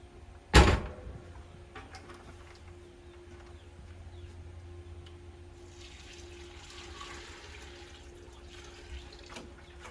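Water is poured over pasture pig feed to soak it; after a sharp knock near the start, a soft, quiet rush of pouring water rises midway and fades, with a low steady hum beneath.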